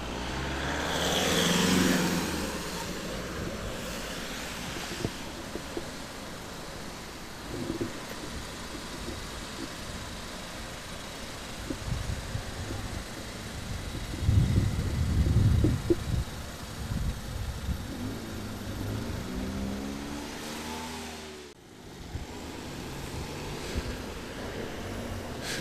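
Steady trickle of cars crossing the Danish border checkpoint, a low passing-traffic rumble with occasional louder vehicle swells, faint and distant throughout.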